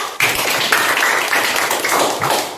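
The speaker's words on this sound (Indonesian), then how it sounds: "Kita berikan tepuk tangan ya" Students clap together in a classroom at the end of a lesson, a steady, fairly loud burst of many hands that runs the whole stretch without pause and fades slightly at the end.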